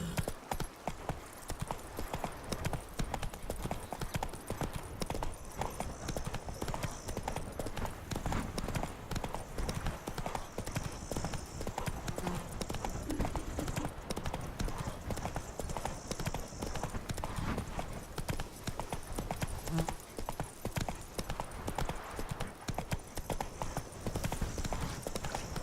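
Geralt's horse Roach gallops across terrain in The Witcher 3, a continuous fast drumming of hoofbeats at steady pace with game ambience underneath.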